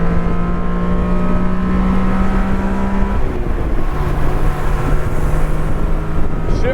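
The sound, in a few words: 1991 Honda Beat engine revving at full power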